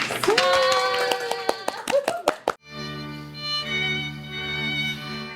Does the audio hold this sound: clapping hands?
yes